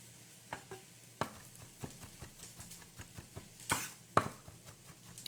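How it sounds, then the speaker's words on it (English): Knife chopping smashed garlic into a smaller dice on a cutting board: a string of irregular, fairly faint taps and knocks with a couple of sharper, louder strikes, and no talking. "And I am just chopping through,"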